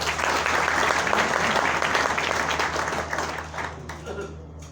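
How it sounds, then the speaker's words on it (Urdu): Audience applause at a lecture, a dense sustained burst of clapping from a crowd that holds strongly for several seconds and then gradually thins out and fades. "تو ایک دفعہ سید نعمت علی شاہ صاحب کے لیے تالیاں ہو جائیں"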